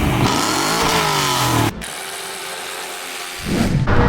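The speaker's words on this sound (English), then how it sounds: "In case you guys were wondering how my car actually sounds so loud" A BMW M3 E92 with VRSF test pipes and secondary cats deleted revs hard with a loud, raspy exhaust, drops off abruptly for a moment, then roars back up near the end, with no talking.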